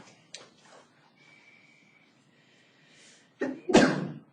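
A single sharp sneeze bursts out near the end of a quiet stretch in a classroom, following faint rustling and a few soft sounds.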